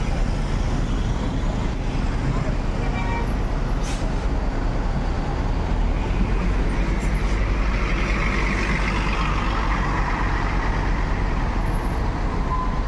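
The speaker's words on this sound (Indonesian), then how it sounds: "masuk lagi 1 unit bus MPM." An MPM intercity bus pulls into a busy parking area, its diesel engine a continuous heavy rumble up close that holds steady throughout, with no voices heard.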